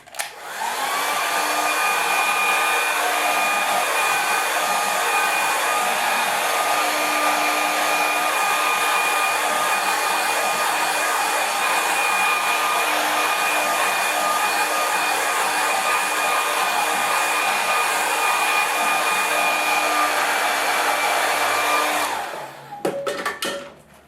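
A hair dryer blows steadily on a wet watercolour landscape painting, a loud, even whirring roar with a high whine that runs unbroken for over twenty seconds before cutting off abruptly near the end.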